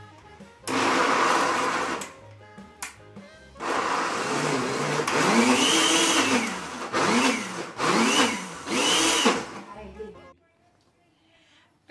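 A food processor whirs loudly in several bursts, revving up and down between short pauses, with a voice speaking briefly between the bursts.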